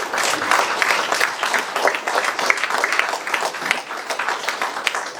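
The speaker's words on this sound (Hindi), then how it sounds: "ताली इससे शुरू करिए" Audience applause at a Brahma Kumaris Raksha Bandhan celebration, dense continuous clapping from many hands that stays loud and steady throughout.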